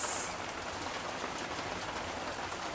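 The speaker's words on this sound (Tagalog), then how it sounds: "Pumatak na yung ulan" Steady rain patters down on a surface, a dense, even hiss with no voices over it.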